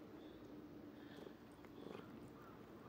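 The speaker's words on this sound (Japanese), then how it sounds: "ゴロゴロ言ってるよ" Soft, steady cat purring close by, a low continuous rumble over a quiet background with a few faint mews or small sounds.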